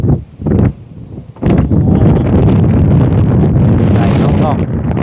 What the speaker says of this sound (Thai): เงียบแท้มื้อนี้เนาะได้เสียงลมเนาะ